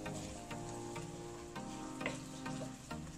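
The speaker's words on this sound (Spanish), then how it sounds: "Le vamos a agregar el ajo y hay que seguir revolviendo." Garlic and onion sizzle in a pot while being stirred, a soft steady frying hiss broken by regular scraping strokes of the spoon, close and fairly quiet.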